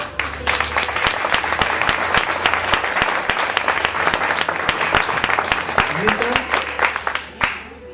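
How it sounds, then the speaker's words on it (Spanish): An audience at an evening religious gathering breaks into loud, sustained applause, many hands clapping densely and close for several seconds before cutting off near the end. "Un aplauso."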